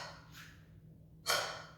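A single forceful Kapalabhati exhalation in a yoga breathing exercise, a short sharp breath burst near the end after a fainter breathy puff, close and alone.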